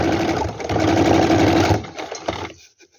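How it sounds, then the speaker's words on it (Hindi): Sewing machine stitching a finishing seam along a strip attached to a ladies' coat made from a reused shawl, a steady close whir for nearly two seconds before it slows and stops. "ये सिलाई लगा रहे हैं।"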